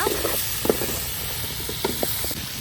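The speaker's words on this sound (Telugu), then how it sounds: "బాగా ఫ్రై చేసుకోవాలి ఎర్రగా వచ్చిందాక" Mutton fries on a stove with a steady, hissing sizzle, punctuated by brief pops and light stirring knocks close by.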